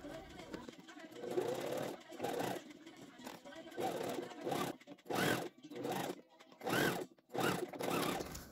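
A sewing machine topstitches a flattened sleeve seam on a men's shirt, its needle chattering in repeated bursts with short pauses between runs. The bursts are close and moderately loud.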